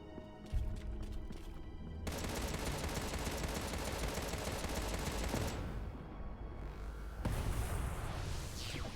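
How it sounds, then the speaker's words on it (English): Rapid, dense automatic gunfire from a row of turrets hammering a wall in the Contra Rogue Corps game, loud and continuous with crashing impacts and a brief lull before another burst. "A line of turrets shooting at a wall for no apparent reason."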